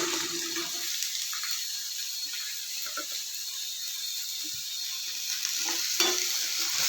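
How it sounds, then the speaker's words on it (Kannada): Chopped pumpkin goes into onions frying in a pan for pumpkin palya, a steady close sizzle with scattered stirring scrapes and small clinks throughout, no voices. "ಇವಾಗ ಈರುಳ್ಳಿ ಫ್ರೈ ಆಗಿದೆ ನೀಟಾಗಿ ಇದಕ್ಕೆ ಈ ಕುಂಬಳಕಾಯಿ ಹಾಕೋತಾ ಇದ್ದೀನಿ"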